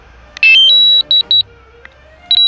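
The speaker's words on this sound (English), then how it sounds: "Beeping, beeping." A run of loud, high-pitched electronic beeps, a few short tones in quick succession, then a pause and one more near the end.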